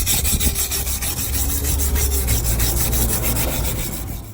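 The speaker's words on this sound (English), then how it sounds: "Now that that's had a good going over with the wire brush" A wire brush scrubs hard across a car brake caliper being cleaned for painting. Close, loud, rhythmic rasping strokes repeat at a quick, even pace throughout, with no one speaking.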